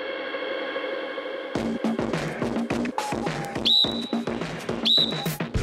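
Two sharp, high whistle blasts start a race amid bursts of clatter and movement, close and loud.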